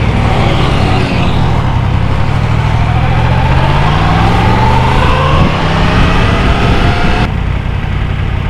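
Motorcycle engine while riding on Huanzhong Road in Taichung, a loud steady drone with rising and falling pitch as the bike changes speed, recorded close up with wind rumble and no talk.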